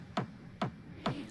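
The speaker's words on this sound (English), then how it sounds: "a techno kick with a low pass here" Three evenly spaced techno kick drum thumps for an intro section, muffled by a low-pass filter that cuts the bass, each with a quick decaying punch, fairly quiet and alone.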